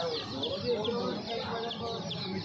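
Many chicks cheep and peep in a dense, continuous chorus, with chickens clucking underneath, close by.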